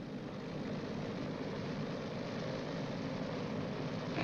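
A B-29 bomber's radial propeller engines throttled up together to 1,500 RPM, producing a loud, steady, unbroken roar that stays even for the whole stretch, with no voices.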